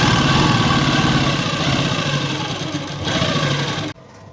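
A sewing machine stitches a salwar cuff with a loud, close, continuous motor whir and rapid needle clatter, running steadily before stopping abruptly near the end.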